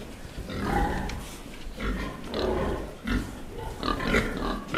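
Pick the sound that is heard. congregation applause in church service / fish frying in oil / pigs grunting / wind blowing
pigs grunting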